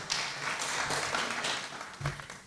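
An audience at a Kenyan environmental and public health officers summit claps in brief, moderate applause, heard at some distance in a large room.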